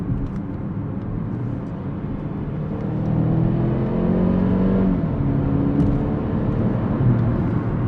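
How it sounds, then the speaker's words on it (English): A 2018 Mercedes-Benz CLA 250 4MATIC coupe with a dual-clutch transmission accelerating hard in sport mode, its engine drone steady and loud and swelling midway as speed builds. "The shifts happen just like that, like wow, the shifts are quick in this car."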